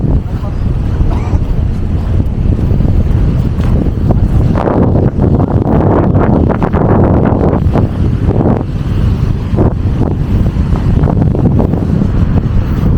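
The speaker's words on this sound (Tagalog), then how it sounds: "Lakas ng hangin." Strong wind by the sea buffets the microphone with a constant loud roar and gusty rumbling, with a voice briefly heard beneath it.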